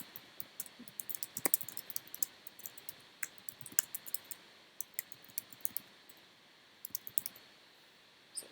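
Computer clicking at a desk while designing an invitation card, many crisp, close, quiet clicks scattered irregularly in quick pairs and runs against a faint hiss.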